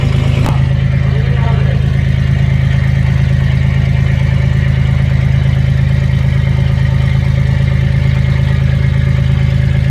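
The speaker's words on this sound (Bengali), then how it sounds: "ট্রলারের প্রচুর আওয়াজ হচ্ছে" A trawler boat's engine drones loudly and steadily from start to finish, a deep, constant diesel rumble with clattering overtones.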